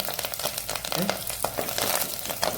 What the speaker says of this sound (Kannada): ಇದರ ನಡುವಿಗೆ ಸ್ವಲ್ಪ ಕರಿ ಲೀವ್ಸನ್ನು ಸಹ ಹಾಕೊಳ್ಳೋಣ